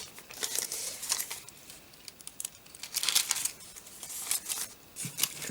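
Paper is torn by hand and snipped with scissors for a scrap-paper craft notepad, a close run of crinkling rips and short crisp cuts in uneven bursts, with no talk.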